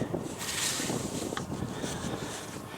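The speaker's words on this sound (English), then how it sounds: "It's a little bit windy today" Wind blows outdoors in a steady, faint rush with gusty buffeting across the microphone, alone and without talk.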